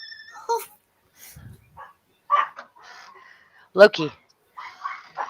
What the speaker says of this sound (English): They're barking at the cats trolling them.